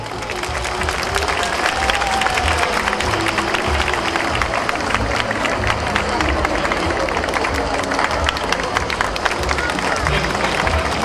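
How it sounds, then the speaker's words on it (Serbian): Sustained audience applause with clapping and crowd noise at the Roštiljijada 2018 festival stage event in Leskovac, a dense, steady wash of hands from many people filling the whole stretch at constant loudness. "ajde jedan aplauz"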